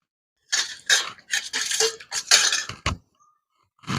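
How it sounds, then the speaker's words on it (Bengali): Mashed potato is kneaded by hand with salt and turmeric: a close series of wet, squishy pats and squelches in irregular bursts, followed by a short pause. "এবার ভালো করে মেখে নেব।"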